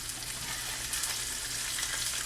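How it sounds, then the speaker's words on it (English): Two whole mackerel sizzle and spit in a big frying pan, a steady close crackle of hot oil with no voices over it. "Now I got a big frying pan on here, and I hope he's big enough to fry 2 full mackerel."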